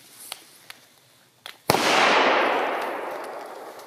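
A Funke B-Böller firecracker from the 17B batch bursts with a single sharp bang, followed by a long hissing, crackling decay, preceded by a few faint pops and ticks.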